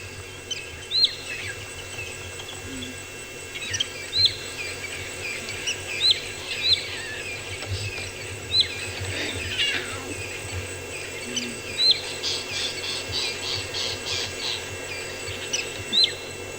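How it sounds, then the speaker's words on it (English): Birds chirping with short high repeated calls at intervals over a steady insect hum in the African bush, with faint squeaks from lion cubs mixed in. "The birds and the cubs are squeaking, but it's mostly a bird that you're hearing."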